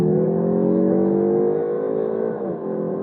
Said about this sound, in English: This is pretty quick for a little car. It'll do 0 to 60 in a few ticks under 6 seconds.